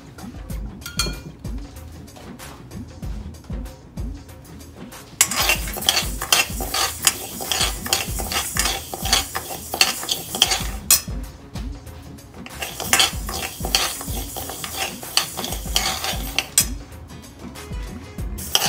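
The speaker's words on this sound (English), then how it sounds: "I'm going to roast the Mong Dal first. It's a dry roast." Mung dal dry roasting in a pan, stirred steadily: repeated scraping and light clinking strokes of a utensil against the pan, rhythmic and close, growing louder partway through, with no voices.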